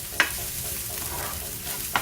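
Plenty of chopped garlic frying in a pan for corned beef fried rice gives a steady, bright, close sizzle, with two short scrape-clicks of a utensil stirring through it, no talking.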